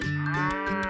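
A calf gives one drawn-out, close, clear moo lasting about a second, with no voices around it.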